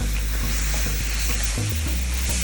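Ground turkey for larb cooks in a pan with a steady, close sizzle, broken by a few soft scrapes and stirring knocks and one deeper shuffling shift near the end, with no voices.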